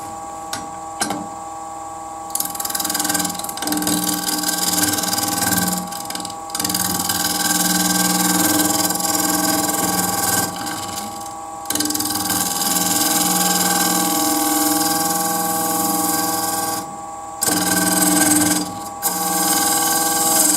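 A wood lathe turns a candlestick while a bore gouge cuts it, giving a loud, continuous mechanical hum and whine with steady tonal bands. Brief pauses early on and near the end break the otherwise unbroken machining noise.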